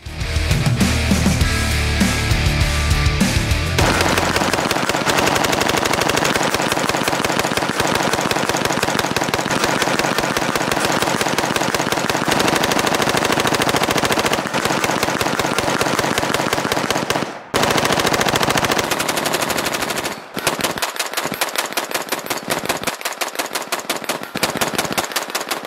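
A short-barreled SBR machine gun fires long sustained bursts on full auto at a weapon-light test, loud rapid shots packed into a continuous roar with a couple of brief breaks and short bursts near the end.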